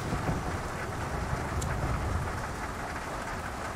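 Steady, dense rainfall in the video game Mafia: Definitive Edition, a continuous hiss of heavy rain on surfaces with a low rumbling undertone, constant and loud with no voices.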